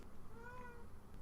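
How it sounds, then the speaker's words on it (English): A single soft, drawn-out cat meow rises and falls at close range, fairly faint over a low background hiss. "We got the meow."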